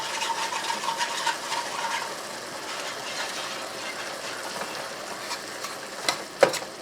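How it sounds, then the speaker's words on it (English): Gravy is stirred in a pan, a soft continuous bubbling sizzle with light scraping strokes, ending in a couple of sharper knocks of the utensil against the pan. "let's get this gravy over here stirred"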